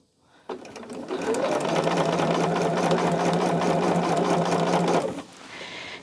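Sewing machine running steadily at speed for about four and a half seconds, stitching quilt fabric with a needle that is worn and being shredded, a close, continuous whirring hum that stops abruptly, followed by faint softer noise.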